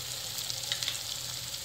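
Masala sizzles and fries steadily in a kadai for restaurant-style chole, a continuous close, even hiss with no voices.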